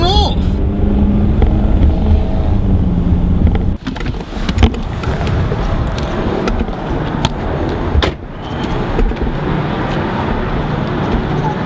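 A car speeds off after hitting the filmer's car, heard from inside a vehicle as loud, continuous engine and road roar with a couple of sharp knocks and dips, and a voice talking over it.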